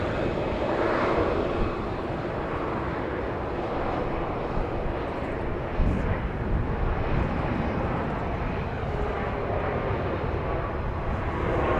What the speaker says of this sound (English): That was Flight 1530 coming in from Lubbock, Texas, on Max 8.